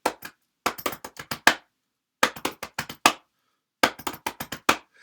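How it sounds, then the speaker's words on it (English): Sharp, dry percussive hits in quick rhythmic bursts, three phrases of rapid strokes separated by short silences, close and crisp like a snare pattern. "The snares have a part that sounds like this."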